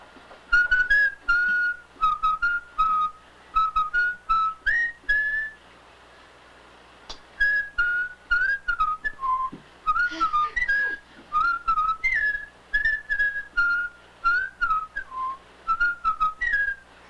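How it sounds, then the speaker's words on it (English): A person whistles a melodic tune in short bursts of notes separated by brief pauses, close and clear with a quiet room behind. "Did you whistle? Did I hear you whistle?"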